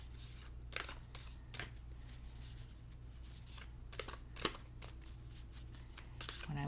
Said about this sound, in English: Let's give it another good shuffle here too